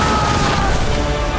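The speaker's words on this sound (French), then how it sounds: "Explosion!" A dense, loud explosion rumbles in the naval combat game Skull and Bones, a broad, booming burst that fills the whole moment at close range.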